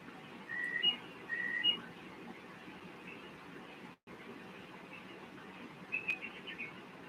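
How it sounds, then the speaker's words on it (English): Outdoors in Michigan's Upper Peninsula, a bird gives two clear whistled phrases close together, then a quieter call later, faint against a soft steady background. "Let's listen to the birds."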